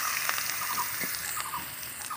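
Eggplant pieces frying in hot oil in a home kitchen, a steady hissing crackle with scattered pops, fairly close and continuous without any talk.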